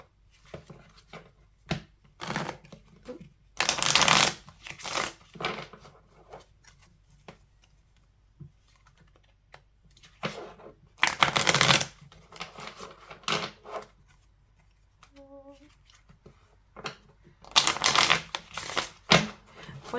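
Oracle cards are shuffled by hand in several quick riffling bursts with quiet gaps between them, close and crisp, plus soft taps and one brief tonal chirp, with no talk.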